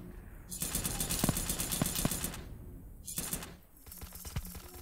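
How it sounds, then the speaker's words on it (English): Rapid automatic gunfire in a chaotic first-person shooter game, loud bursts of rattling shots with brief pauses between volleys, close and punchy. "Oops, I'm shooting my guy."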